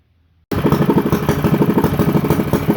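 A Honda GX160 mini bike engine idles steadily and loudly after starting abruptly from silence, with a rapid, even chugging pulse and a slight mechanical clatter.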